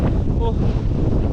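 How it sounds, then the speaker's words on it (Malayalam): Strong wind gusts across a rocky mountain climb, a loud, rumbling buffet against the microphone filling the short stretch, with a faint voice underneath. "വീശി അടിക്കുന്ന കാറ്റാണ്, ഒരു രക്ഷയില്ല."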